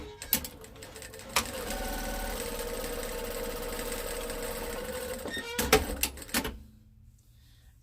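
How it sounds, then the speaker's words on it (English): Sewing machine stitching the bottom seam of a fabric tote bag, a steady close mechanical whir running for several seconds between clicks and handling taps, then stopping. "we'll sew the bottom together."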